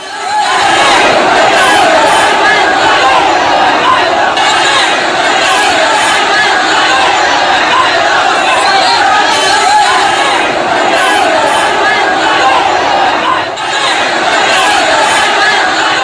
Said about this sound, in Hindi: पुलिस ने लाठियों से कोशिश की कि भीड़ रुके, लेकिन भीड़ लगातार नारेबाजी कर रही थी